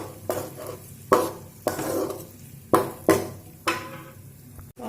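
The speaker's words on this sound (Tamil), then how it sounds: "போட்டு நல்லா வதக்கிக்கோங்க. நல்லா அந்த பச்சை வாசனைலாம் போகட்டும். சிம்மில் வச்சு வதக்கிக்கோங்க" Chicken curry masala gravy for nattu kozhi kulambu sautéing in a pan over a low flame, with a spoon scraping and stirring in several separate strokes over a quiet, steady sizzle.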